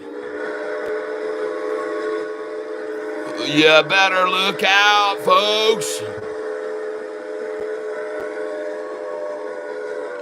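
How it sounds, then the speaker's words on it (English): A train rumbles steadily throughout, with a loud whistle sounding in several blasts near the middle before the rumble carries on alone; someone speaks briefly over it. "And it's the sound of this train, ladies and gentlemen, coming your way."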